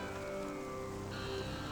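Rain falls steadily in a soft, even hiss, faint and constant throughout with a faint tonal hum underneath.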